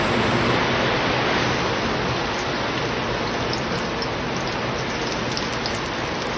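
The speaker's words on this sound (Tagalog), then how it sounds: "kusog kayo ang ulan diri guys" Heavy rain pours down steadily and loudly, a dense unbroken hiss filling the whole scene with no voices.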